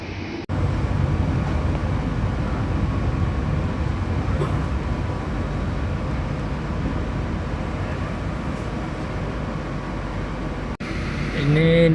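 KRL Jogja–Kutoarjo commuter train at Wates station in Indonesia, heard from aboard another train: a steady loud rumble of rolling wheels and carriage noise throughout, with a brief sharp whoosh near the end.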